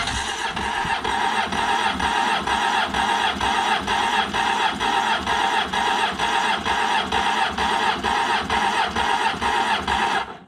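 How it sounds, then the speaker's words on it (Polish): A Honda Hornet 900 engine cranks on its starter at full throttle for about ten seconds, a loud, steady, rapid pulsing whir that stops abruptly at the end. "Cały gaz i rozrusznik."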